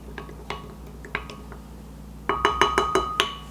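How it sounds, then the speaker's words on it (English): A spoon clinks against the inside of a cup as milk is stirred for a cinnamon swirl loaf, a few scattered taps and then a quick run of bright, close metallic clinks. "Give it a stir."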